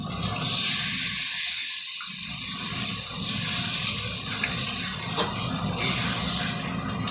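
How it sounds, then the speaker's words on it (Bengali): Water pours into a pan of frying masala and fish for a fish curry, making a loud rushing hiss and steamy sizzle that continues with small bursts and no talk. "জল দিয়ে দেবো।"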